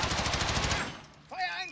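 Rapid machine gun bursts from the video game Call of Duty: Modern Warfare rattle loudly through the first second, then fade into quieter game ambience with a brief tonal effect near the end.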